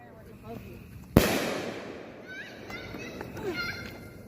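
A 2-inch and 3-inch custom-made board of purple and green peony firework shells, one sharp loud launch boom followed by a fading crackling wash and faint distant pops, with people talking nearby.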